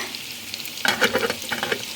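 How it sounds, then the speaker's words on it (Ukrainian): Cutlets sizzle and crackle in a hot pan, the frying growing busier partway through with quick popping bursts. "І котлетки до коші смажаться."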